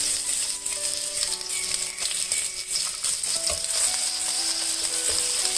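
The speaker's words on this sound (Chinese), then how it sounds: "油温到5成6成热的时候，放入葱粒，先放入葱粒" Chopped scallion whites frying in moderately hot oil in a wok, a steady close crackling sizzle with a few faint clinks of a utensil.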